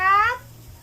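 A voice imitates a cat's meow, a single short rising-falling call close to the microphone, alone against a quiet background during a samgyupsal dinner.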